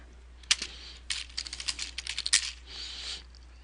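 Typing an address on a computer keyboard: bursts of crisp, close key clicks in an uneven rhythm, with short pauses between runs of keystrokes and no talking.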